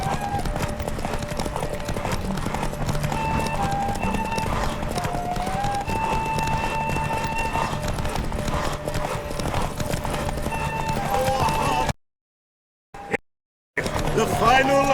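Roach the horse galloping in The Witcher 3 during a derby race, with rapid, continuous hoofbeats thudding at a steady pace under layered game sound and a voice, until brief cuts to silence near the end.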